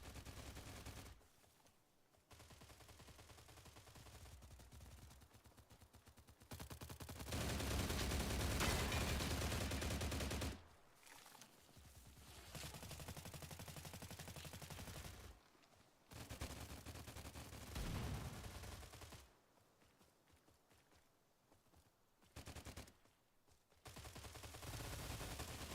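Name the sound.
gunfire from weapons in the video game STALCRAFT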